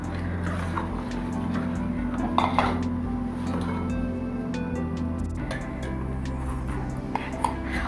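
Ingredients being mixed in a bowl to work out lumps for a strawberry delight dessert: steady clinking and scraping of a utensil against the bowl, close and continuous, with occasional sharper chinks.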